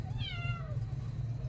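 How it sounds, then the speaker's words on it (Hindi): A single cat meow, clear and fairly close, rising then falling, over a steady low background hum. "याऊं याऊं कर रहा है"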